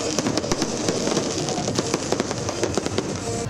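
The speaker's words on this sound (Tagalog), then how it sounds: "Agud masaksihan ang New Year's countdown kag fireworks display sa Bacolod City LGU." Fireworks bursting at a New Year's celebration on the BGC Grounds in Bacolod City, a dense, steady crackle of many pops and bangs with a crowd murmuring under it.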